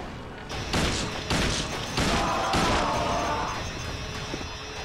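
Gunfire in the survival-horror game Silent Hill 2: several loud, sharp shots in quick succession, with crashing impacts and ringing game ambience between them, no talk over it.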